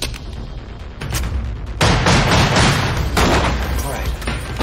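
Gunfire in a hotel-room shootout from the 2012 film 21 Jump Street, with loud, dense booming shots and blasts filling the room over tense shouting voices.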